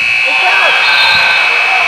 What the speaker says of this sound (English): Might have been after the buzzer